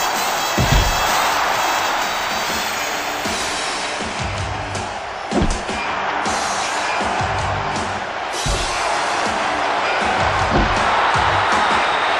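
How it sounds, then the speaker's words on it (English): A noisy arena crowd in a wrestling video game roars and chants continuously, with sharp thuds and slams punctuating the din every few seconds. "You can hear the crowd getting on Bobby the Brain with their weasel chants"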